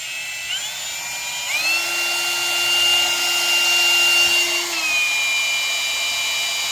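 Electric transfer pump running steadily as it pushes antifreeze back into a generator's cooling system, a constant motor whine with a sustained tone that steps up in pitch midway then drops back, no talking.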